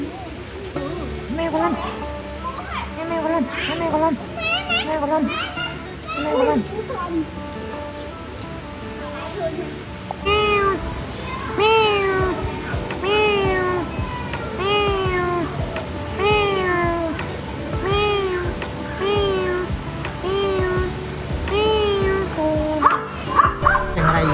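A kitten meows repeatedly in high, rising cries, close and loud, while a dog yips and whimpers nearby and a person speaks Vietnamese over the animals.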